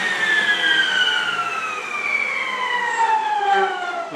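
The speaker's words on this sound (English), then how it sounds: "let the saw wind down." A table saw blade winds down after a cut while a wooden bucket is being made; a loud whine slides steadily lower in pitch for about four seconds, with no other sounds.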